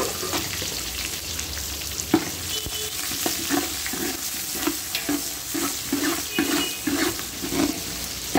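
Onions, curry leaves and whole spices frying in oil for thalcha, a loud close sizzle with rhythmic stirring scrapes and bubbling pulses toward the end, steady throughout with no voices.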